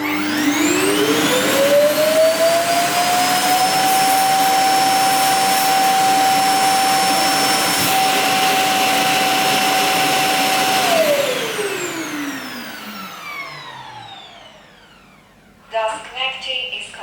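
A Lenovo T1 Pro robot vacuum's dock self-emptying, tested with rice and hair: a loud, steady whining roar with a rising tonal whine that holds for about ten seconds, then winds down and fades, followed by brief speech near the end.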